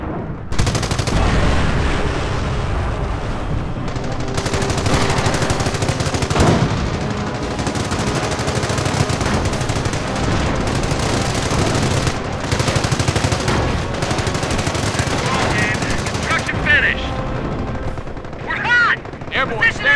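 A machine gun nest fires long rattling bursts in the Company of Heroes mobile game, dense rapid gunfire with explosions layered in a noisy battle scene, and in-game voices call out over the din.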